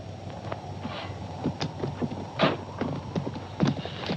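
Horse hooves clip-clop in an uneven walking rhythm, with several sharper hoof strikes standing out over a steady low background hum.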